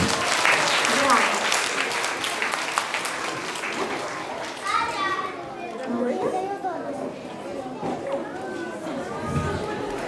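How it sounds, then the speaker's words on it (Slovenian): Applause from a children's audience at a puppet theatre show, with lively clapping and young voices chattering and calling out over it before the clapping thins out near the end. "En velik aplavz."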